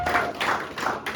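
Church congregation clapping together in acclaim during a French-language worship service, a dense roomful of hands in rhythmic bursts roughly every few tenths of a second, steady and fairly loud.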